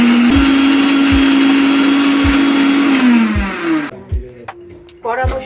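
Mixer blender grinding boiled flat beans with garlic and green chili, a loud steady whirring drone for about four seconds that then winds down, followed by a few faint clinks and a brief renewed burst near the end.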